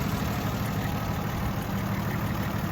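A restored 1961 Jeep Willys Wagon 4x4 idles with a steady, even low rumble, close up and continuous with no voices.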